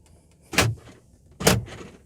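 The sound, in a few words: central door locking of a 2002 Volkswagen New Beetle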